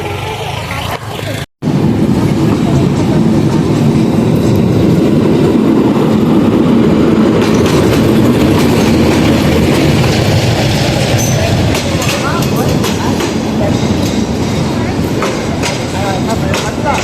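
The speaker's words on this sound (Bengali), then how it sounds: "তো ট্রেন আসার কথা ছিল 11টায়, কিন্তু 15 মিনিট আগেই চলে আসছে।" A passenger train pulls into a station, its loud, steady rumble and wheel clatter filling the whole stretch after a brief dropout near the start, with faint crowd noise underneath.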